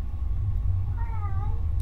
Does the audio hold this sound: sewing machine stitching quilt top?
no